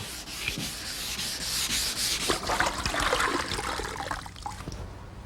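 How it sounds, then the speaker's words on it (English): Close, steady scratchy rubbing of 220-grit wet/dry sandpaper on a hard epoxy surface, with a faint wet swishing in the strokes. "I'm preparing the surface by sanding it with some 220 wet dry sandpaper."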